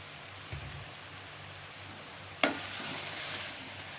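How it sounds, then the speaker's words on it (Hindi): Potatoes go into a hot pan over a medium flame with a soft clatter and a sudden burst of frying hiss, then a quieter sizzle that lingers. "अब इसमें आलू जाएंगे"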